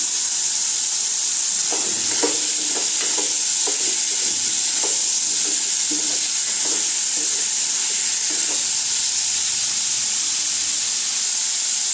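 Liver frying in oil in a pan, a constant bright sizzle and hiss with a run of scraping stirring strokes in the middle, close and steady, without talk.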